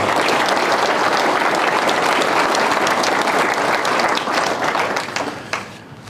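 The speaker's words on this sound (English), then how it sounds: "Let's give them another round of applause." An audience at a city State of the City event applauds its council members, dense, loud sustained clapping for about five seconds before thinning out and fading.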